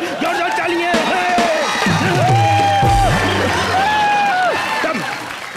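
Studio audience at a Hindi comedy show erupting in loud applause and whoops, a sustained clatter of clapping with shouts and a deep bellow mixed in, fading slightly at the end.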